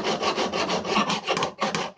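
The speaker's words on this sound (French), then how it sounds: "Et donc on va limer comme ça jusqu'à obtenir un tranchant." A file rasping along the edge of a skinning knife blade, in quick repeated close strokes with a short pause before the last few, loud and alone.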